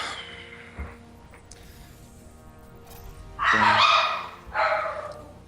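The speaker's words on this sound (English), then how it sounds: "I hear dogs." Dogs bark in a StarCraft match, a couple of bursts of sound standing out over a steady game background.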